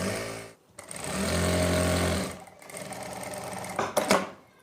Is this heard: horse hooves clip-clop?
no